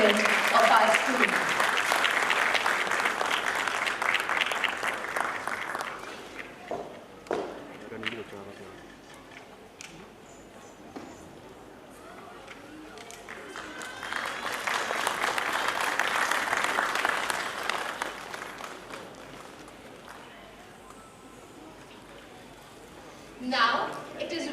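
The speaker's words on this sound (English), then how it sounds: "Please join me in applauding this outstanding student of our school." An audience at an Army Public School Akhnoor golden jubilee award ceremony applauds an award-winning student, with two broad waves of clapping separated by a quieter stretch and a short burst near the end.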